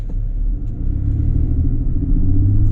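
A 2018 Chevrolet Colorado Z71 crew cab pickup with automatic transmission is driven, giving a steady low engine and road rumble heard from inside the cab that rises slightly as it goes.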